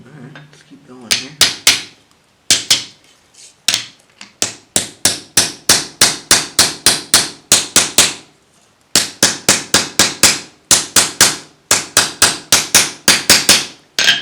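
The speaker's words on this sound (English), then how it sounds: "Probably not a great idea to hit your handle material with a hammer" Hammer blows peen rivets into a knife handle during a handmade knife build, sharp metallic strikes falling in rapid rhythmic bursts with brief pauses, close and loud throughout.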